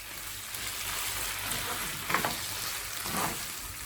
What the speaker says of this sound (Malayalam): ബാക്കിയിരിക്കുന്ന ചിക്കനും ഇതുപോലെ തന്നെ ഫ്രൈ ചെയ്തെടുക്കാം.